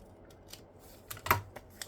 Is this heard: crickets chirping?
no